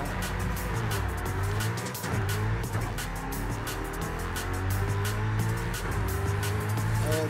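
A Hennessey Venom F5 supercar in the Forza Horizon 5 racing game roars continuously as it accelerates, the engine note climbing and shifting with gear changes, loud and close throughout.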